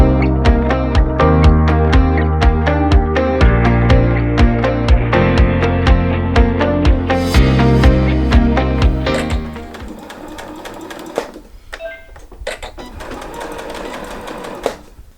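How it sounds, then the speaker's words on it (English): A sewing machine stitches around the layers of a scrap-fabric bookmark in fast, loud, rapid rhythmic bursts that stop briefly and restart, then gives way after about ten seconds to quieter handling clatter and a few sharp clicks. "continue to sew around my bookmark, making sure that all of my layers stay in place"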